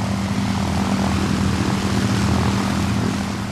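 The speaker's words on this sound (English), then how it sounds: "The sound of four Merlins" Four Rolls-Royce Merlin engines of a Lancaster heavy bomber droning steadily together, a loud, even, continuous propeller roar with a deep synchronized hum and no break.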